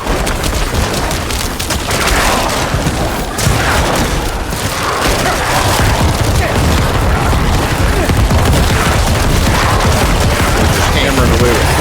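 Corpse explosions from a Necromancer build in Diablo IV, a dense, continuous barrage of booming blasts and crackling impacts layered with game effects, loud and sustained throughout with a voice talking over it.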